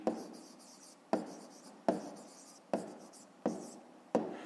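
Pen writing on paper during a fifth-grade maths exercise, six distinct taps each followed by a short scratchy stroke, close and quiet with no voice.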